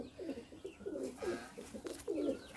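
Slender, medium-sized pigeons in a loft coo softly in a few repeated, throaty bursts, quiet and fairly close.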